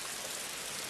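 Rain falls outside a small cafe, a brief, even broadband hiss heard from indoors without speech.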